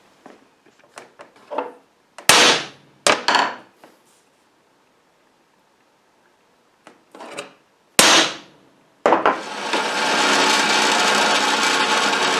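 A metal plate is struck several times with a punch and hammer, a few loud sharp metallic hits with quieter taps between them, followed by a sustained loud grinding or cutting noise.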